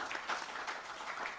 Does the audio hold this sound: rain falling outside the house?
no